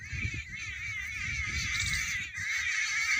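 A flock of jungle babblers chatters continuously outdoors in a village. The harsh, overlapping calls form a steady chorus with a faint low rumble beneath.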